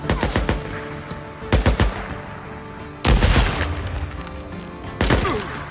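Gunfire in the Days Gone video game: several loud bursts of rapid shots and booming blasts in four clusters separated by short pauses, close and harsh, with no talk over them.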